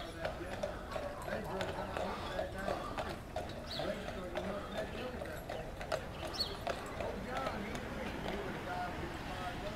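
Horse hooves clip-clop in a steady rhythm on pavement at moderate distance in Tombstone, Arizona, with people talking quietly in the background.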